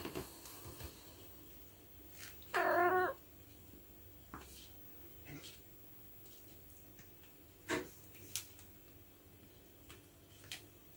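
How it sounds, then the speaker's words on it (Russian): A small kitten lets out one clear, high meow, with a fainter mew later on, heard through a played-back video clip in an otherwise quiet room with soft taps and rustles. "у мамы маленький котенок такой смешной"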